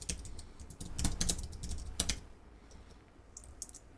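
An SQL command is typed on a computer keyboard in quick, close clusters of crisp key clicks that thin out to a few scattered taps, with no voices.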